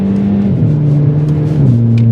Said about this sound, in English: with this one having a bit of a resonator to delete the exhaust.